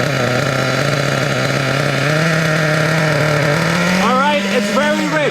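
Dual nitro 26 engines of an Ofna Twin Titan RC truck running steadily rich and loud, a sustained buzzing drone that rises into revving throttle blips near the end.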